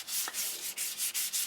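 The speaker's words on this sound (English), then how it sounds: "I find it best to start with like a 180 grit sandpaper" Hand sanding with 180 grit sandpaper on a painted figure piece, a quiet close rhythmic rasp of about seven even back-and-forth strokes, heard alone.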